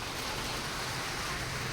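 Steady broadband hiss of heavy rain pouring down before a match in Nalbari, constant and even throughout, moderately faint, with no voices.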